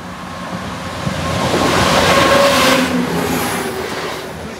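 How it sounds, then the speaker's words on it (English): A train rumbles past Doddington Road level crossing with a broad, rushing roar that swells and fades, with faint metallic squeals of wheels on rails. "first train approaches"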